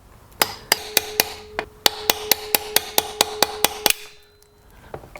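Sharp metallic hammer strikes drive a part into the metal body of a STIHL 026 chainsaw, about fifteen close, loud, evenly spaced blows in two runs with a short pause between, then quiet.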